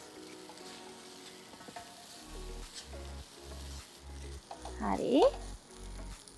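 Green rice frying and being stirred in a pan, a steady sizzle broken by repeated scraping strokes that grow louder toward the end, with a brief spoken word.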